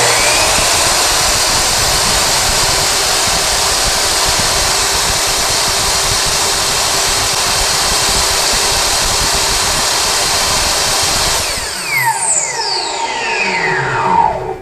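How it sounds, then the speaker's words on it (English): A Kobalt miter saw runs at full speed, a loud, steady high whine held for about eleven seconds before spinning down with a falling tone and a faint rattle, no talking. "Let's see what the noise levels are on the Kobalt miter saw."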